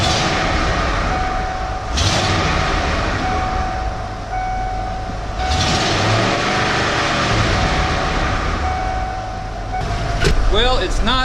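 A 1994 Ford F150 with the 302 V8 idles steadily after an exhaust manifold leak repair, a continuous broadband engine rumble with a couple of surges, close by and fairly loud, with some faint squeaks near the end.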